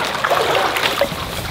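Slime mixture poured into a backyard pool gives a close, loud, continuous wet trickling and splashing pour with gurgling bursts throughout.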